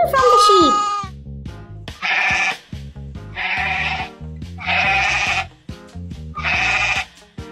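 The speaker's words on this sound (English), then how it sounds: "This is a sheep." A sheep bleating repeatedly, five loud, close, wavering calls in a steady rhythm with brief pauses between them, over a simple musical background.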